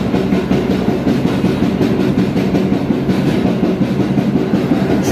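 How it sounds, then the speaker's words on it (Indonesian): The Banyubiru passenger train rumbles along the rails out of Brumbung station, Indonesia, a loud, steady roar with a faint clatter of wheels, heard from on board. "Mari kita tunggu keberangkatan kereta api Banyu Biru dari stasiun Brumbung."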